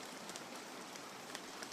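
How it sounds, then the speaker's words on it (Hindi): Raindrops falling on a night-time outdoor scene make a dense, steady patter with scattered sharper drop taps throughout, heard alone with no voices. "सिर्फ बारिश की बूंदें और हवा की सरसराहट"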